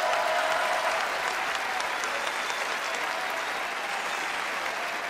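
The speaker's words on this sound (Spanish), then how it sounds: "Un aplauso para mi mamá" A TV talk show studio audience applauds, dense steady clapping that holds at an even level for the whole stretch with no talk over it.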